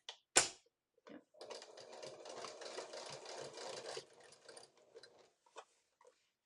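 Sewing machine with a walking foot stitching drapery fabric, running in a fast steady whirring burst for about three seconds, then slowing into a few short stuttering runs. A sharp click comes at the start, and the sound is close with no talk.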